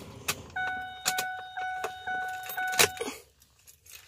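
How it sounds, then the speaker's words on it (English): Keys jangle and clink in the cab of a Ford F250 pickup as it is switched off, several sharp metallic rattles over a steady two-tone chime, then the cabin goes quiet. "Let's find the keys here and turn, turn that off."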